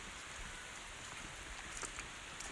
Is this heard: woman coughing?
no